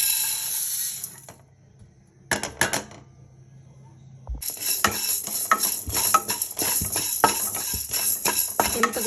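Mustard seeds, curry leaves and asafoetida dropped into hot oil for tempering, a brief clatter followed by a loud, continuous crackling sizzle with rapid popping spatters that carries on to the end.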